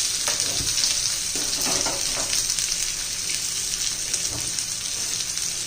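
Chopped tomatoes and green chillies frying with onion in a pan for chutney make a steady, close sizzle, with occasional soft stirring scrapes and no voices.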